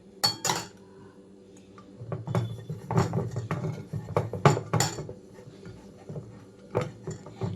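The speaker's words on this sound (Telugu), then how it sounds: "ఇక్కడ ఇడ్లీ ప్లేట్స్కి కొంచెంగా నెయ్యి అప్లై చేస్తున్నాను" Metal idli plates clink and clatter in scattered sharp knocks while ghee is greased onto them in a home kitchen, close and fairly loud, with pauses between clusters of taps.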